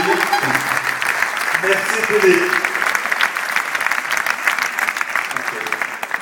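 Audience applause at an accessibility awards ceremony, a dense continuous clapping crowd filling the room, with someone briefly speaking over it near the start.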